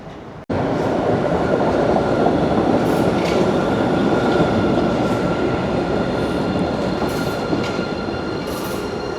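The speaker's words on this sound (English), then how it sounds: "We are riding off the subway here at Bowdoin" A Boston subway train at Bowdoin station roars loudly and continuously after an abrupt start, with rumbling wheels, clattering rails and faint high squeals, close and steady without talk.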